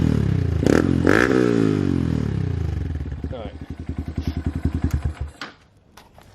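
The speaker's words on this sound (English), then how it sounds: "Give it some more revs now. The bike's even more warmed up." Honda Grom fitted with a Yoshimura RS-9T race exhaust, revved hard and then blipped in a quick series of sharp, rising revs before dropping back to idle, with brief talk at the start.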